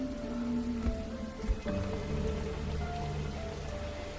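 Steady rain falls in a video game, a dense hiss of drops on surfaces with a soft low rumble underneath and a couple of brief knocks.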